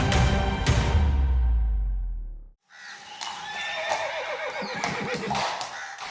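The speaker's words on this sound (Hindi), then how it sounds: "सर्वोत्तम ऐसे घोड़े हैं राष्ट्रपति अंगरक्षक के" A horse of India's President's Bodyguard lets out a loud, close whinny that fades out, then after a brief pause more neighing follows alongside hoof clatter and movement.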